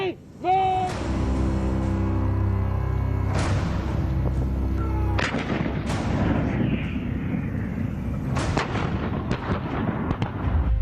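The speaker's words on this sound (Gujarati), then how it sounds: "130 mm મીડિયમ અને 105 સ્પીડ ગને સતત ફાયરિંગ કરીને" Indian Army 130 mm medium guns and 105 mm field guns fire in a series of loud, booming blasts, each with a long rumbling decay, several heavy shots a few seconds apart.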